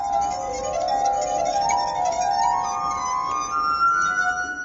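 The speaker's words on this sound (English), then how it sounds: "He played them until he found his instrument, the glass harp, which he's been playing for over 20 years." A street performer's glass harp rings out in sustained, shimmering tones that slowly glide upward and overlap, an ethereal chime-like drone with no talking over it.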